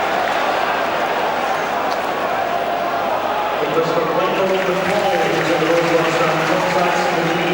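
Hearts supporters at a Scottish league match against Hibernian, a steady wall of crowd noise with rising chants and urging voices swelling in the second half, under a commentator's talk.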